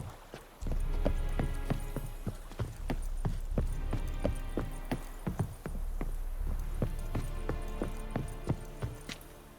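Geralt's horse Roach galloping in The Witcher 3: Wild Hunt, with loud close hoofbeats in a fast, steady clip-clop rhythm over a low rumble that continues for the whole stretch.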